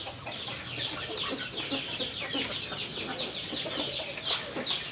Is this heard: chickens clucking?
yes